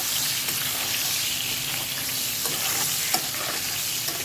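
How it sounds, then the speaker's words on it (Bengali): Steady oil sizzle from pointed gourd frying, close and continuous, with a few faint clinks and stirring sounds. "লাল লাল করে পটলগুলো ভেজে নিলাম"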